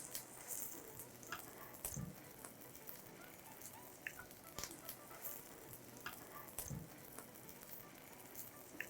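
Aloo tikki shallow frying in oil in a pan over medium flame, a soft continuous sizzle with scattered crackles and small pops, close and low, with occasional faint talk.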